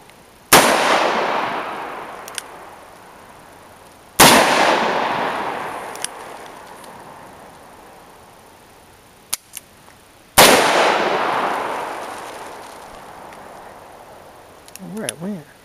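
Outdoor gunshots from handguns and rifles, including a Glock 27, Hi-Point .45, Ruger GP100 .357 and Marlin Model 60: three sharp, loud cracks spaced a few seconds apart, each ringing out into a long decay, with faint small clicks between.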